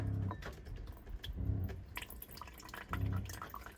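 Water runs and trickles from a reverse osmosis filter system in a van during its first flush. The flow is steady and faint, with soft dripping and a few louder surges.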